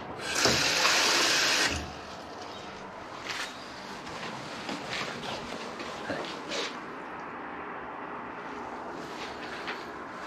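A tap runs strongly into a sink for a couple of seconds in a caregiver's home in Israel, then cuts off, leaving quieter clinks and handling noises afterward.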